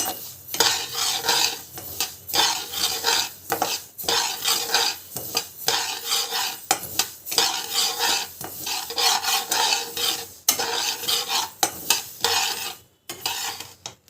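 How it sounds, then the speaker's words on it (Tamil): Mustard seeds are dry-roasted in a pan, stirred with a utensil that scrapes and rattles them in rapid, uneven bursts with brief pauses, close and without speech. "கடுகு வந்து நல்லா வந்து வறுத்துக்கலாம்."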